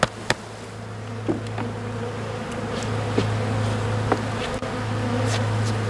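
Honeybees at a beehive make a dense, steady, close hum, with individual bees zipping past in brief louder buzzes.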